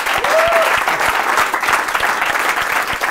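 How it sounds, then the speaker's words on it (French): Studio audience on a French TV game show breaks into sustained, loud applause, a dense wash of clapping hands that fills the space steadily throughout. "Applaudissez-la bien fort."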